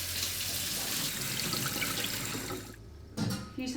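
Rice being washed by hand in water to rinse off polishing agents, a steady close splashing and swishing that runs for nearly three seconds, stops briefly, then resumes with a couple of short splashes.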